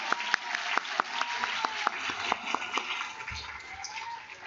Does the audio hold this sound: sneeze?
no